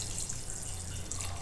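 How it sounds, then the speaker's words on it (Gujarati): Water is poured into a vessel of soaked rajma beans, a soft, steady splashing trickle heard fairly close and quiet with a low hum beneath, no voices. "તો આમાં આપણે હવે પાણી નાખીશું થોડુંક,"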